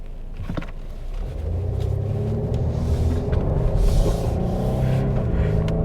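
A 2021 Mercedes-Benz E350 rumbles steadily through a sharp turn, its engine and road noise forming a low, continuous drone heard from inside the cabin, with no voices.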